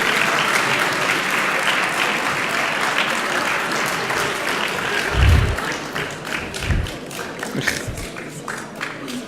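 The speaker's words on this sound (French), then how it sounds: "On peut les applaudir très fort" An audience at a local sports awards ceremony in Soustons applauds two sports teams, a dense sustained clapping from a sizable crowd that swells slightly, with a few louder bumps and a voice briefly near the end.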